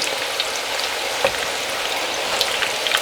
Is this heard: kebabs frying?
yes